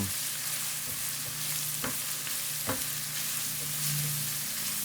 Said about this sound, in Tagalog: Maggisa muna tayo ng sibuyas.